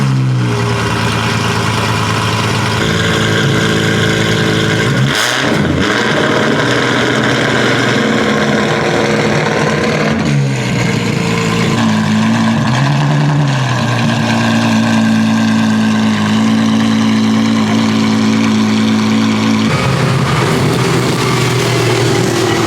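A Ferrari 488 Challenge race car rumbles by on a road during Monterey Car Week, a loud engine idling and rising in short revs, with passing traffic noise and crowd ambience around it.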